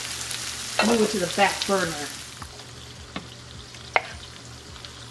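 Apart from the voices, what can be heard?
chorizo sizzling in a frying pan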